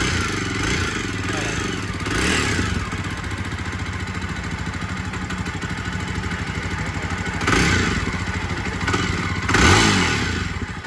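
A Yezdi Scrambler motorcycle engine runs steadily at a close idle for about eleven seconds, with a rough, even thrum and brief blips of revving near the end.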